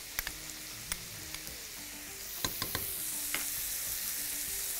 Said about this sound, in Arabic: ونحط كمان الثوم المفروم